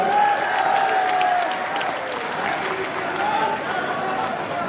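At an outdoor election rally in Motihari, Bihar, a big crowd applauds a candidate: a broad wash of clapping mixed with shouting voices and cheers, steady and loud throughout.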